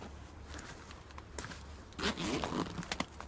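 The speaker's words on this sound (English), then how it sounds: "now I can just unzip this here" Unzipping on an LK35 rucksack, a faint, close zipper run that grows a little louder in its second half amid soft handling rustle.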